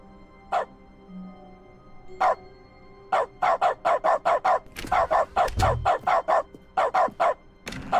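A dog barks in The Stanley Parable, a run of loud, close single barks, sparse at first and then in quick rhythmic bursts with brief pauses between groups.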